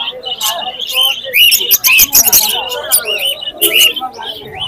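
Albino and other lovebirds at a Khalishpur pet bird and pigeon market chirp loudly and close by, with sharp overlapping tweets and whistles in quick bursts.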